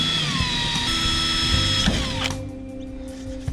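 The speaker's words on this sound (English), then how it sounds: "so that I can get the drill in to get these holes drilled" A power drill whines while boring holes in aluminium on a boat, its pitch sliding as the bit bites, then spinning down into a lower steady hum with small clicks.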